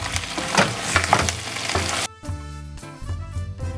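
Food fries in a pan with a steady crackling sizzle that cuts off abruptly partway, leaving a quieter, sparser sputter afterward.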